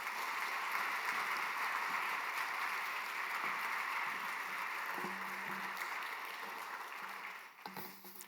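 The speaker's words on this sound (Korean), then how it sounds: "우리 박성민 선교사님 큰 박수로 함께 모시도록 하겠습니다" Sustained applause from a church congregation at a Wednesday prayer meeting, welcoming missionary Park Sung-min. A steady, moderately distant wash of clapping fades slightly toward the end, with faint background sounds.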